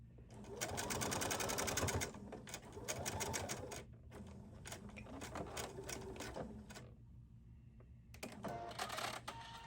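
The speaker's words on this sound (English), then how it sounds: "So you're going to stitch all the way around the pocket, leaving the top part open." Sewing machine stitching around a shirt pocket on a Hawaiian shirt, running in bursts of rapid whirring stitches with short pauses between runs, close and steady.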